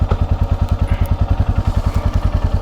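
A Royal Enfield motorcycle's engine thumps steadily in a fast, even rhythm close by, loud and alone, before a solo ride from Delhi toward Kasar Devi in Uttarakhand with light rain about.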